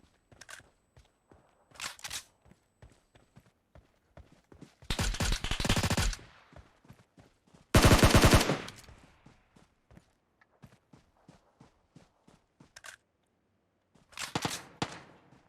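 Intermittent gunfire from a PUBG Mobile firefight, with several loud sustained automatic bursts among scattered single shots and quieter footstep-like taps, spread across the stretch without talk.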